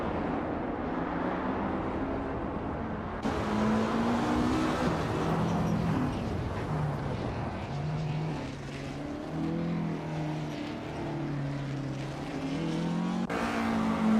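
A 1958 Maserati 250F race car engine in a racing video game drones steadily at high revs, its pitch rising and falling with gear changes, loud and continuous with no talk.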